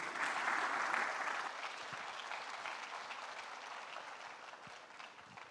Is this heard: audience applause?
yes